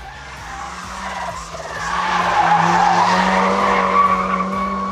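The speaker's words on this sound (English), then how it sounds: "he slid his Mitsubishi Lancer Turbo through the stages to clear the way for the competitors" Mitsubishi Lancer Turbo rally car sliding through a stage of a rally event, its engine note rising as the tires skid and squeal on the surface, close and steady for several seconds with no talk.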